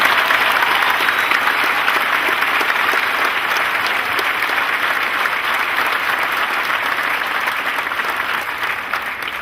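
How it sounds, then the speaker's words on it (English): Sustained applause from a high school graduation audience for the faculty, a dense even wash of clapping throughout that eases slightly toward the end, with no voices over it. "Please join me and the class of 2010 in a well-deserved round of applause."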